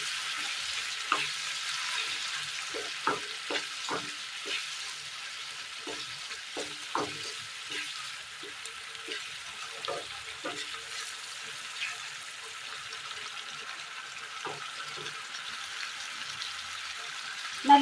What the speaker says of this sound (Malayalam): നല്ലതുപോലെ തിളച്ച് വന്നിട്ടുണ്ട്